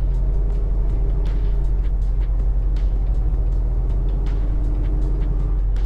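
A truck's wheels spin briefly on a snowy, icy road during a snowstorm in Minnesota, heard as a steady, loud engine drone and road rumble with a faint rhythmic slipping texture and scattered ticks throughout.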